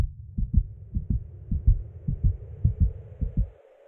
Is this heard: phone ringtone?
no